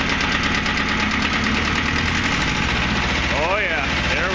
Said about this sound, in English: it's a good running little tractor